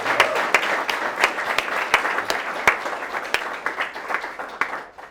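An audience claps together, loud and close, with distinct sharp hand claps standing out above a dense wash that thins and fades toward the end.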